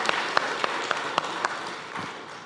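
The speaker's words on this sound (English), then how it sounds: "let's give Dr. Georges a round of applause for that initiative" Workshop attendees at a meeting on African swine fever in the Caribbean give a brief round of applause, a moderate wash of clapping with a few sharper claps standing out, fairly faint and tapering off after two seconds.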